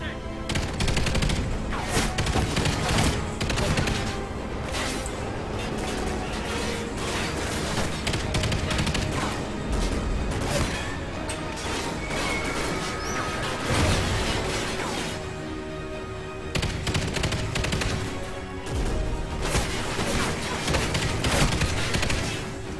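A light machine gun in the Call of Duty: Ghosts campaign fires long, rapid automatic bursts alongside splintering and shattering impacts, with occasional voices under the loud, dense gunfire.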